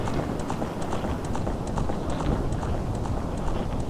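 A horse carrying a huge rider gallops in a Zelda game cutscene, with quick, steady hoofbeats continuing throughout against a dense backdrop of cutscene sound.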